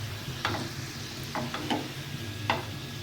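Potato sticks fry in hot oil with a steady soft sizzle, broken by a few sharp crackles and stirring clinks, close up with no one talking.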